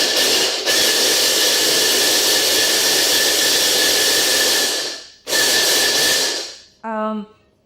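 A blender blitzes vegan cheese ingredients including nutritional yeast with a loud, roaring whir that runs for about five seconds, stops briefly, restarts, then winds down. A short tone follows at the end.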